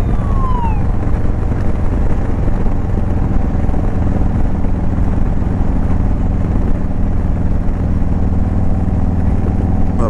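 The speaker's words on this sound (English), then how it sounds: "You got two ambulances going, that's never good." Two ambulance sirens wail in town, heard from a Harley Road Glide motorcycle. The sirens rise and hold over a steady low engine and wind rumble.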